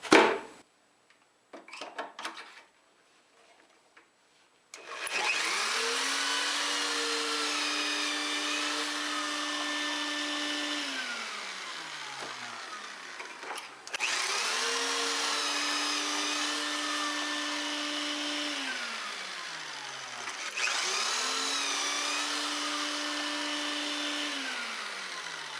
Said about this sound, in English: I'm going to cut those pocket hole screw holes over here at my pocket hole screw